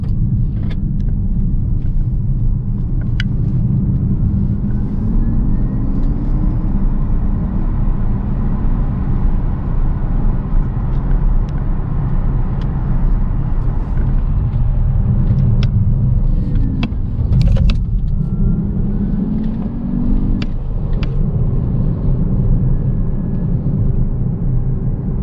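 A 280 hp Alfa Romeo Junior Veloce drives hard around the Paul Ricard circuit, its engine droning loud and steady throughout with gear-change shifts in pitch, heard close from onboard.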